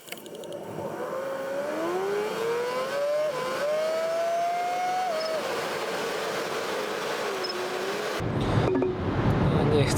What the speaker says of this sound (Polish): będziemy jechać 120 na tempomacie